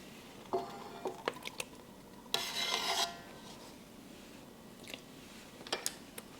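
Pasta dough ingredients dumped into a mixer bowl, heard as brief rattling pours and scrapes, with one longer gritty rush of dry ingredients in the middle and scattered soft knocks, fairly quiet and close, no talking.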